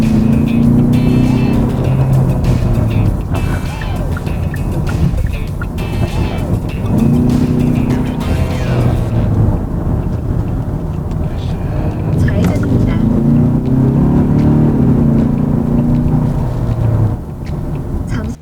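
Kia Stinger 2.5 pulling hard to about 4,000 RPM as it dives into an underpass, a loud sustained engine roar rising in waves, heard from inside the cabin with someone talking over it throughout.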